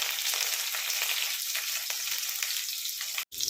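Chopped onion and curry leaves frying with mustard seeds in hot oil for an Onam-style ivy gourd (kovakka) thoran give a loud, steady close sizzle that cuts out briefly near the end.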